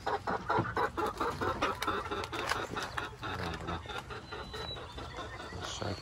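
Chickens in a backyard cluck and squawk in rapid, overlapping bursts while they are being caught, loud and close, with brief scuffling and a sharp high call near the end.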